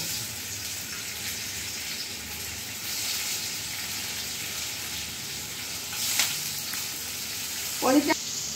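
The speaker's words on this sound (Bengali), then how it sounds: "প্রথমে আমি এই গরম তেলে পনিরগুলো হালকা করে ভেজে নেব" Small paneer cubes, 200 grams, frying lightly in hot oil, with a steady close sizzle and hiss, a brief utensil clink near the end and no talking.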